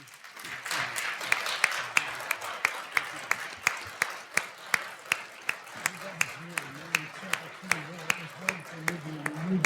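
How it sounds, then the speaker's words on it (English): Audience at a university Vietnam symposium applauds the panelists: a fairly sparse round of distinct, individual hand claps at close range, with a voice talking throughout underneath. "I would just like to give our panelists a round of applause"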